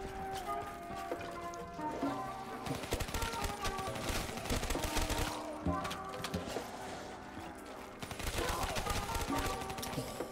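Rapid gunfire from Call of Duty: Black Ops 3 Zombies on the Nacht der Untoten map, dense overlapping shots and bursts running continuously at close range, loud throughout with game music and effects.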